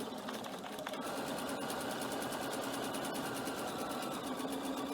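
A sewing machine stitches through a cork messenger bag, running forward, reversing, then forward again, as a steady, close, rapid mechanical whir with no pause.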